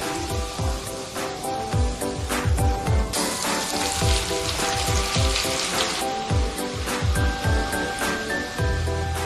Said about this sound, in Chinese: 最后分两次浇上葱油